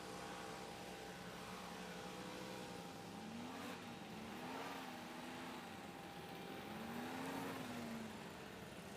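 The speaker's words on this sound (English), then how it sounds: "up now, we have got the Formula Ones. We're now picking up the pace considerably." Formula race cars at a Whittlebury race meeting accelerate with rising and falling engine notes. The revs sweep up and back more than once under a steady background roar and sound moderately distant, with no voices.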